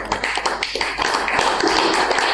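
A meeting audience applauds with dense, continuous clapping that stays loud and steady for a couple of seconds.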